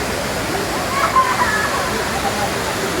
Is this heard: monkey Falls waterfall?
yes